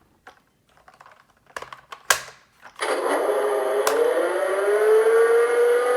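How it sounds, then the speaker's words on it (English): Hess 2019 toy tow truck with its ramp drawing in, a steady whirring motor sound with a slowly rising tone lasting several seconds, close and fairly loud, preceded by a few faint clicks and handling taps. "So it makes that sound like it's slowly bringing the ramp in"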